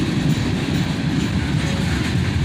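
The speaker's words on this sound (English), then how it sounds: "He's slowing down now as he comes into Needmore Yard in Dayton." A freight train rolls steadily past at close range as it slows on entering Needmore Yard in Dayton, its rumble continuous with no talk.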